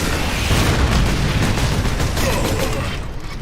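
Rocket explosions in the video game Warhammer 40,000: Space Marine, a dense continuous barrage of booms and bursts filling the whole stretch, loud and close with no pause between blasts.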